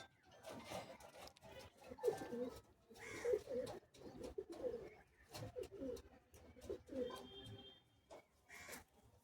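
Madrasi pigeons at a home sale in Bagnan give repeated soft, throaty coos in a steady rhythm, close to the listener with other birds faintly around.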